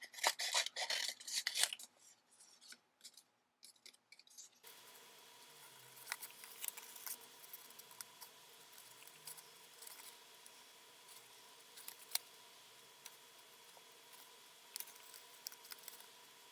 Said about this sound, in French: Je vais découper mes fleurs dans des chutes de papier.